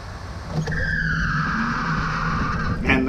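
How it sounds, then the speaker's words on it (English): Tesla tires spinning under hard acceleration during a drag timing run, a loud sustained screech with a rising and falling squeal tone over steady motor and road roar, lasting nearly three seconds with no talk. "And that's a lot of tire spin."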